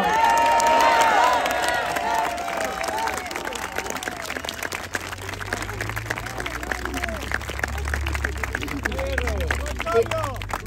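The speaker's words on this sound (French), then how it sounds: "J'aimerais qu'on l'applaudisse bien fort." A crowd at a French political support rally applauds and cheers, with clapping, shouts and whistles under a noisy babble of voices, a rumbling low hum running beneath.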